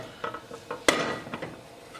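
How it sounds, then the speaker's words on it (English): A frying pan is set down and handled on a stovetop, with several light metallic clinks and one sharp clank of metal on the burner, close and fairly loud, without voices. "Get a frying pan."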